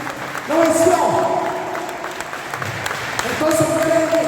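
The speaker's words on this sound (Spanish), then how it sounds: "Denle el aplauso al Señor." A church congregation applauds, a steady crackle of clapping that runs throughout beneath a preacher's amplified voice speaking over it.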